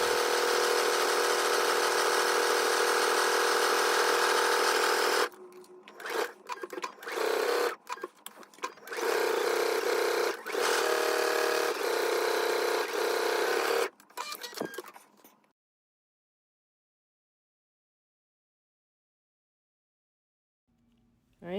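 A sewing machine stitches belt pieces together in a long continuous run, then in shorter stop-start bursts of rapid whirring, before falling silent.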